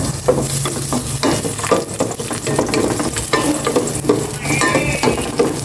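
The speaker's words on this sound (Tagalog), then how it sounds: "Maglagay na ako ng cooking oil. And tikisa ko na itong bawang." Garlic sizzling and frying in hot cooking oil while being stirred, a dense continuous crackle with scraping stir strokes, close and steady throughout.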